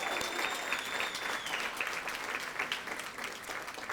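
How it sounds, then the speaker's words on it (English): An awards show audience at the QueerOut Awards 2019 applauds an honoree, a brief burst of steady, dense clapping from a sizeable crowd with a faint whistle over it. "Give her another round of applause."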